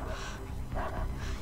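A dog in the video game Beyond Two Souls gives short whimpers and a yip over a dense low background rumble, close and brief.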